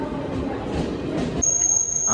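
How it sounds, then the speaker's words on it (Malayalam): A passenger train on the Thrissur to Kollam route beginning to move, low rumbling and rolling noise from nearby, joined partway through by a thin high whine that holds steady. "അപ്പോൾ ട്രെയിൻ മൂവ് ആയി തുടങ്ങിയിട്ടുണ്ട്"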